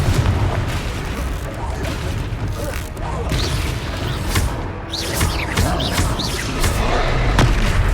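Confringo blasting spells in a Harry Potter game at Hogsmeade boom and rumble loudly, a dense run of thuds and crackling detonations with scattered sharp cracks, all dense and continuous from start to finish.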